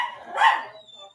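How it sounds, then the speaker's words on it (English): A single short bark from a dog rises out of a quiet room, somewhat distant and muffled. "That'll be the pups."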